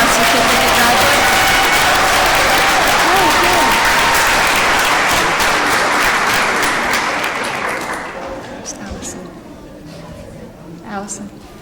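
A graduation ceremony crowd applauds certificate graduates with loud, dense clapping and some cheering for several seconds. The applause then thins to scattered claps and faint voices as it dies away.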